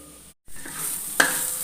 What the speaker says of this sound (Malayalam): ഞാൻ ഇളക്കിക്കൊണ്ടേ ഇരിക്കുന്നുണ്ട്